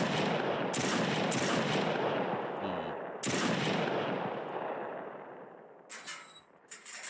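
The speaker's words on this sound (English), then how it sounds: "either way, we've got a gunfire." Sustained automatic weapon fire from an Unreal Engine 5 first-person shooter, a loud dense burst that fades over several seconds with a few sharp shots near the end.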